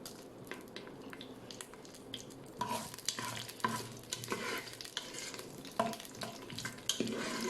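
Mustard seeds and urad dal frying in hot oil for tapioca fry, crackling and sizzling while being stirred, with bursts of spattering and scraping of a utensil in the pan.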